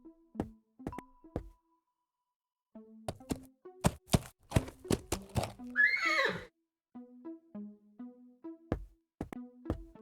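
A horse whinnies in a cartoonish video game scene, with short tonal game sound effects and knocking clicks scattered before and after the neigh, all fairly quiet.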